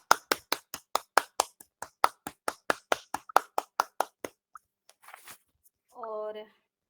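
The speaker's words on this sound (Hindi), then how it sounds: "हमारे आज के योगाचार्य जी आदरणीय रामानुज भैया के लिए जोरदार तालियां एक बार" Applause during an online yoga class, heard as a run of separate, evenly spaced claps, close and fairly faint, fading out into a brief rustle and a short voiced sound.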